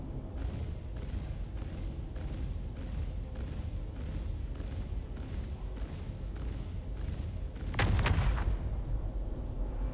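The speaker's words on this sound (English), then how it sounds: "We're gonna shoot at the same place from the same distance." Deadbolt cannons on a Corsair ship in the game Star Citizen fire in a steady, evenly spaced volley of heavy booming shots, with one louder, broader blast near the end, and no talking.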